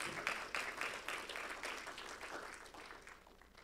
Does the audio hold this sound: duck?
no